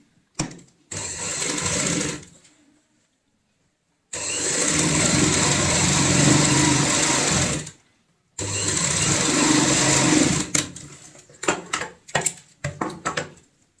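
A sewing machine runs in three sustained bursts, stitching a zipper onto a ladies' handbag, with brief pauses between runs and some short clicks and handling near the end.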